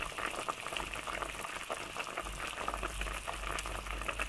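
Fish and tomato braise bubbling steadily in an uncovered pot, a dense continuous simmer with a low rumbling undertone and no voices.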